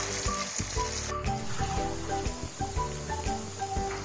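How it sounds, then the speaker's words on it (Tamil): Masala paste for a fish fry sizzles in hot oil, a steady close crackle with rapid, uneven spitting and popping all the way through, and no voices. "அந்த மசாலா வந்து ஆயிலில் போட்டு நல்லா ஃப்ரை பண்ணணும்"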